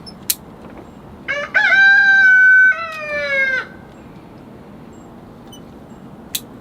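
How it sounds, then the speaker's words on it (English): A rooster crows once on a quiet Saturday morning in February, long and loud with a falling ending, against a quiet outdoor background with a couple of faint clicks. "The odd rooster there going off."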